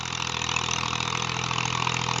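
A 2000-model Massey Ferguson MF 240 tractor with a cultivator idles steadily at close range, its even engine rumble holding constant throughout with no pauses or voices.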